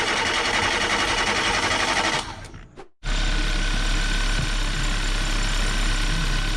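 A Chevrolet Beat fitted with a Chinese engine cranks over and starts, a brief pause in the steady running noise giving way to a loud, constant idle with a rapid mechanical clatter close by.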